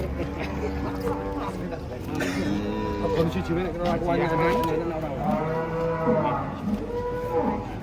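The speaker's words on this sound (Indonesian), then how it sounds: "Ini sapinya." Giant humped cattle being unloaded from a truck moo repeatedly in long, drawn-out bellows, several calls overlapping at close range amid background crowd chatter.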